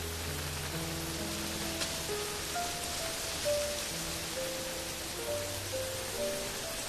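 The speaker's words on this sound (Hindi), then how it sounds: "बस बारिश रुक जाने दो।" Steady rain falls on surfaces in a constant hiss, with soft background music underneath and no talking.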